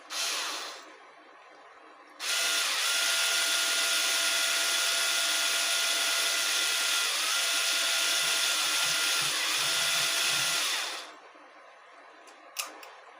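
A power drill bores into a guitar bridge, whining loudly and steadily for about nine seconds, then cuts off, leaving a few faint clicks.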